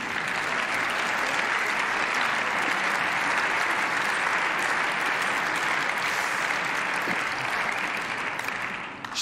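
Sustained, dense applause fills the German Bundestag plenary chamber, a broad steady wash of many hands clapping that holds for several seconds and starts to thin out only at the very end.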